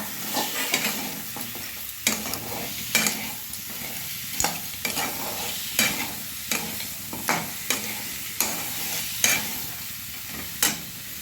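Crabs frying in a spice masala over high gas flame, stirred with a utensil in a pan: steady crackling sizzle broken by regular scraping strokes about once a second, close and fairly loud, no voices.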